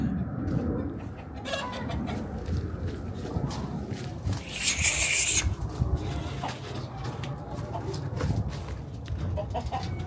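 Chickens and a rooster cluck steadily and close by as they are herded into a coop in Istanbul, with shuffling footsteps and a brief louder burst of squawking partway through.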